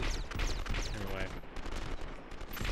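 Gunfire in Metal Gear Solid 5: The Phantom Pain, with close, rapid shots and bursts crackling over a steady game background, with speech mixed in.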